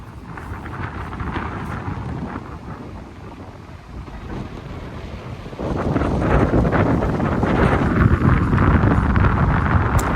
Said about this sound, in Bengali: নিশ্চয়ই আপনারা বাতাসের শব্দটা শুনতে পাচ্ছেন